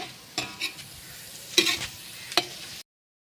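Eggplant and other vegetables frying in a pan for a Pakistani-style eggplant dish, a soft steady sizzle broken by a few sharp scraping stirs, close by, cutting off abruptly.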